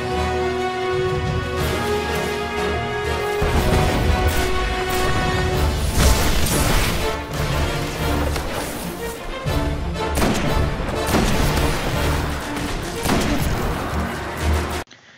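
Loud gunfire and heavy booms from the Destiny Devil's Lair strike, including a sniper rifle, ring out over a dense, continuous game soundtrack with repeated sharp reports throughout.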